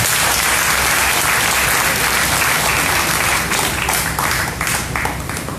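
Church congregation applauding for the King of Kings, a dense, steady wash of many hands clapping that stays loud and continuous from start to finish.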